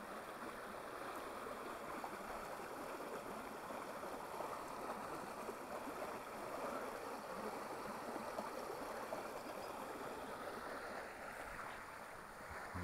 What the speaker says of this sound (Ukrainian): Сам правець тут вже більше схожий на струмок.